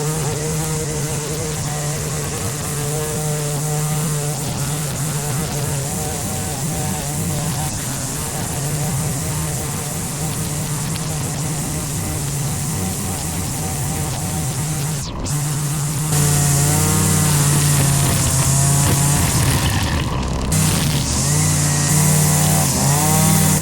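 A Shindaiwa M262 / Echo 2620 gas string trimmer runs loud and close, its buzzing engine steady at part throttle, then revving up sharply after a brief dip as it cuts into woody growth.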